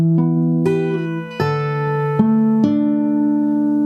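Acoustic guitar playing the second half of a song as picked chord tones, a handful of clear plucked notes ringing out one after another, close and bright with no voices.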